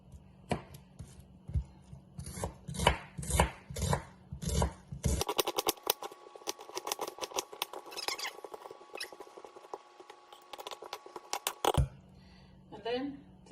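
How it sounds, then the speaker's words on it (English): Knife chopping onions smaller on a cutting board, a fast run of sharp close taps, then a burst of dense rapid chopping, then quieter scattered taps. "So that's our onions. I'm gonna chop them smaller"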